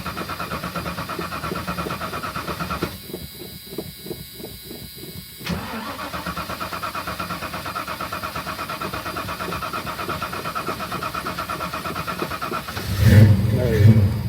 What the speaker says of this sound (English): All right, about to start her up. Probably gonna take a few cranks.